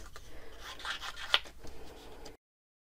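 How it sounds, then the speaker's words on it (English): Scissors snip through paper to cut out a pumpkin piece for a Halloween treat bag, a soft close rasp of blades over about two seconds with one sharper snip in the middle, then silence. "now I'm going to cut this one out"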